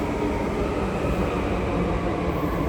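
Loud, steady rumble of a Delhi Metro train in motion, a continuous close roar and rattle with no talking.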